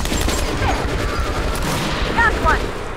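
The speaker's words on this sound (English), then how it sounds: "I don't like shooting my money" Rapid, dense gunfire in Metro Last Light, loud and close, firing money bullets in a continuous burst under a man's excited exclamations.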